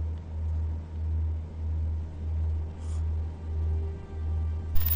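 In the Roblox game Drive World, a car drives along with a low, evenly pulsing engine rumble that throbs steadily and moderately loud, with no talking over it.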